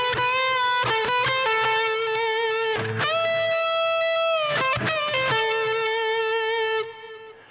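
Electric guitar plays the intro solo of a song, with sustained, singing distorted notes, a few quick picked runs and slides, loud and alone with no talking.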